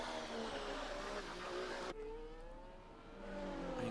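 A race car engine in a racing video game, struggling on a wet track, a continuous loud rough engine drone with shifting revs and a sudden change in tone partway through, no talk.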